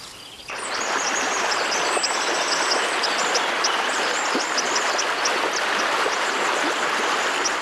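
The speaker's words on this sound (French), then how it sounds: "En se laissant transporter par les eaux fraîches du torrent" Fast-flowing mountain torrent in the Pyrenees, a loud steady rush of water with high bird calls above it.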